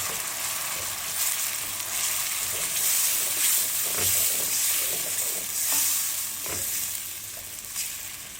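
Grated tomatoes frying and sizzling in a pot, stirred with scrapes and knocks of the spoon over a steady close hiss, with no talk.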